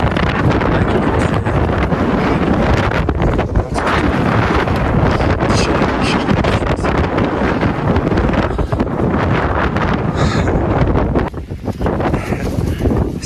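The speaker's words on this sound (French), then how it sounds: "Avec le vent" Strong, steady wind on the Acatenango volcano in Guatemala roars and buffets the microphone for the whole stretch, a dense blustery rumble with brief dips near the end.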